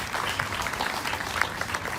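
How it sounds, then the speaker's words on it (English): An audience applauds the first round of speakers at a Hope Walk event, steady dense clapping from a crowd running throughout, moderately loud and even. "let's give a round of applause for those first round of speakers"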